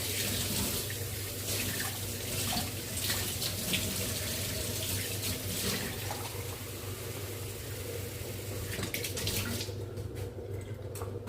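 Water runs steadily from a kitchen tap while dinner is being cooked, a continuous close splashing stream that keeps going for about ten seconds before easing off near the end.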